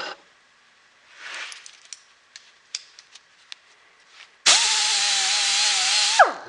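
A die grinder polishing an axe head, preceded by light taps and clicks, then a loud high whine starting abruptly and running steadily for about two seconds before slowing down.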